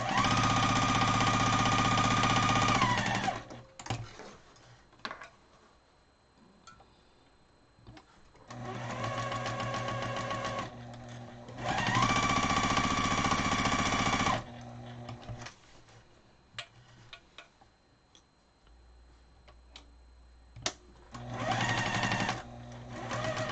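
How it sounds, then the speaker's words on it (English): A sewing machine stitches quilt block coasters in three long, steady whirring runs, loud and close, each separated by quieter pauses with small handling clicks, and there is no talk. "I might have to give my machine some more oil."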